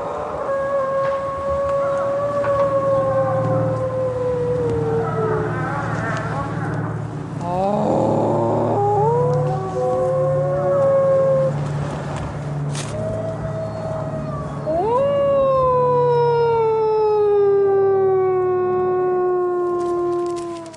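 Wild wolves howl in long, rising and falling calls that overlap one another, with several voices at once, sustained and fairly close, over a low rumbling background.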